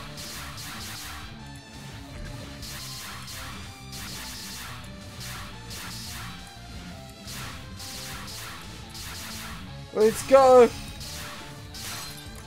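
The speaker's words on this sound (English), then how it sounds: "Okay, we're breaking all the glass." Glass shattering in the video game Touhou 15.5: Antinomy of Common Flowers, with a few sharp crash bursts near the end over busy game music and a voice talking.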